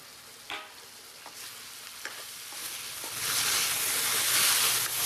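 Oil sizzles and crackles steadily as duck meat fries in a pan, with a few sharp clinks of a utensil early on before the sizzle swells louder.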